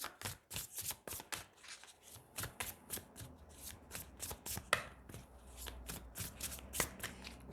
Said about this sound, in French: Allez, je prends 9 cartes pour vous, les Verseaux.